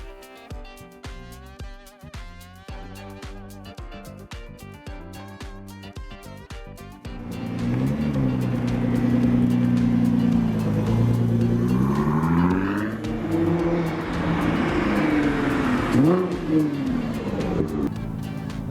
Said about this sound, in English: This V6 makes an amazing sound, and it's pretty much a very unique sound.